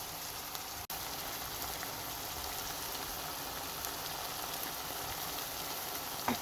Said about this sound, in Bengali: চিংড়ি মাছ, পেঁয়াজ, টমেটো একসাথে খুব ভালো করে ভেজে নেব